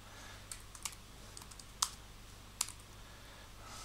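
Typing on a computer keyboard, a few sparse, faint key clicks with one or two sharper taps at irregular intervals over a quiet background hum.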